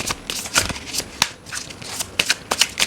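Tarot cards shuffled by hand at close range, a run of crisp riffling bursts and flicks in quick succession, loud and clear with no talk.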